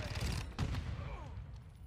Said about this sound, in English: Get to the Christmas spirit by flashbanging myself.